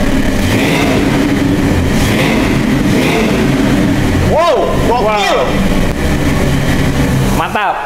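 A Batman car engine roaring loudly and steadily, then blipped in several sharp rising-and-falling revs, close by, with excited voices exclaiming over it.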